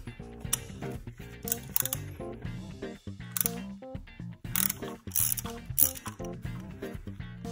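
A ratchet fitted with a T40 socket clicks in repeated bursts as it turns bolts near the cast aluminum valve cover of a Mercedes OM647/OM648 diesel engine, close and crisp, with no talking.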